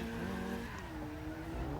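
A BMW drift car in the CarX Drift Racing 2 video game screams at high revs through a corner, engine tone sliding in pitch with tire squeal mixed in, loud and continuous.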